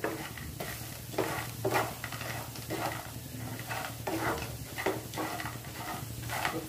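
A spoon stirs a mixture in a bowl, giving soft rhythmic scraping and swishing strokes that repeat steadily at close range and fairly quiet level.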